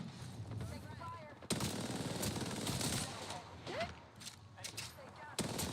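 Rapid gunfire bursts in a sci-fi shooter video game, loud sharp cracks and rattling volleys over busy battle noise, with talk mixed in.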